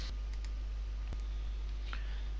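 Computer mouse clicks while embed code is pasted into a web page: a few faint, sharp clicks scattered over a steady low hiss, with no talk.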